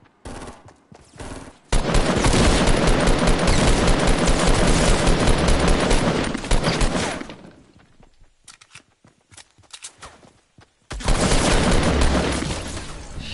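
Bursts of loud machine-gun fire in a World War 2 video game, one long rattling stretch of several seconds, a quieter gap with scattered shots, then another heavy burst near the end.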